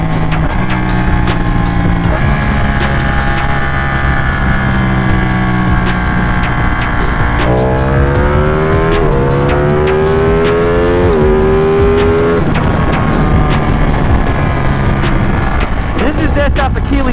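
A tuned Kawasaki ZX-10R motorcycle engine revs hard to redline through repeated climbing pitches and short gear shifts, loud and close, with a rider's voice mixed in.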